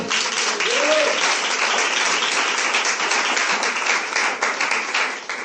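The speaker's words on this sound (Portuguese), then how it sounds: "Dá uma salva de palmas." A church congregation applauds in sustained, dense clapping that stays loud and steady throughout, with a brief voice tone near the start.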